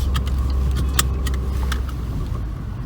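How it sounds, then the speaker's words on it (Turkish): Seat belts clicking and rattling inside a Peugeot 306 GTR, several sharp metallic clicks and jingles close by over a steady low engine hum, no speech. "şimdi arabanın içindeyiz Yusuf kardeşimle beraber kemerleri takalım"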